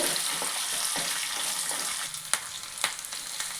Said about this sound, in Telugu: కరివేపాకు వేసుకున్నాను ఉల్లిపాయలు వేసుకుంటున్నాను అన్నీ ఫ్రై చేసుకున్నాం ఇప్పుడు